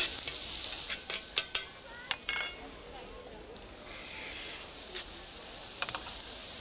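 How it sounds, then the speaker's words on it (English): Currants, raisins, almonds and peppers being stirred in a pan, with a faint sizzle under a few sharp scrapes and clicks of the utensil, quiet and close, no voices. "now we begin to mix them with the peppers"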